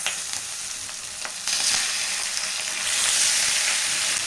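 Washed chicken pieces dropped into hot oil with fried ginger garlic paste, setting off a loud, steady sizzle that swells sharply as each batch hits the pan, with no talking.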